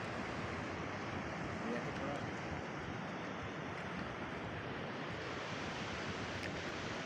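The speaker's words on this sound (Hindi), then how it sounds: "साथियों, ये नदी बराबर में बह रही है।" A Himalayan river near Badrinath rushes steadily nearby, a dense continuous roar of water mixed with wind noise, with no clear talking.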